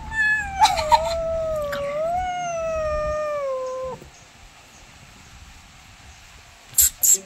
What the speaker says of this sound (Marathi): आपले मांजर झोपले बघा